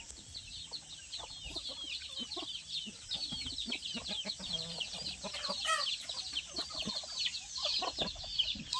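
Chickens cluck and chatter repeatedly in a rural Thai outdoor setting, with irregular overlapping calls that stay fairly quiet and close, without talk.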